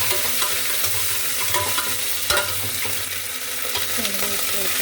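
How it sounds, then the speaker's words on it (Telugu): Dried red chillies fry in hot oil in a pan, giving a loud, steady crackling sizzle with faint stirring scrapes throughout and no speech. "ఎండుమిరపకాయలు బాగా వేగుతుంది"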